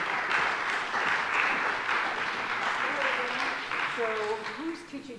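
Steady audience applause at a talk on the Joseph story, a dense wash of clapping that continues while people speak over it near the end.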